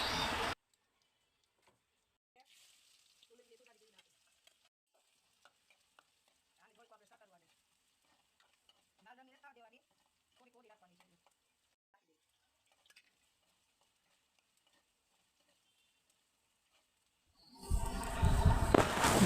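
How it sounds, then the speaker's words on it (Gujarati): Mustard seeds and cumin crackle faintly in hot oil in a home kitchen, a soft, steady sizzle with light scattered pops over otherwise near-silence, framed by loud bursts of noise at the start and end. "તો આપણે તેલ મૂકી દીધું, રાઈ નાખી દીધી, જીરું નાખી દીધું"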